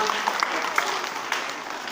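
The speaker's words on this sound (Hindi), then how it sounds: "खुद के लिए तालियां बजाएं एक बार, शाबाश।" A room full of children at an Urdu school claps together, a brisk scattered burst of applause with a few voices calling out underneath.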